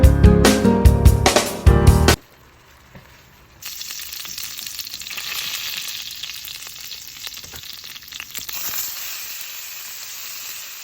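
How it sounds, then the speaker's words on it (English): Mushrooms sizzling in a pan while a creamy gravy with cooking wine is made, a steady hiss that starts after a loud clatter of handling and carries on evenly at close range. "I know you guys heard that sizzle"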